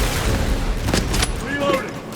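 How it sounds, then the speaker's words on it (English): A frag grenade explodes in Warhammer 40k: Space Marine 2, a short sharp burst amid dense battle noise and gunfire, with an announcer-style voice present. "Frag grenade deployed."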